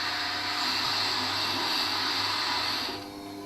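A sharpening machine's grinding wheel works steel on a carving V tool, giving a loud, continuous whirring grind that holds steady for about three seconds before easing off.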